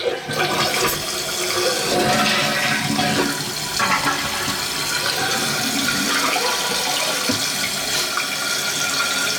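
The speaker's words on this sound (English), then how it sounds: "So let's go ahead and push this in." A toilet flushing right after its flapper was replaced, a loud close rush of water draining and refilling the tank in a steady wash for several seconds, no talk.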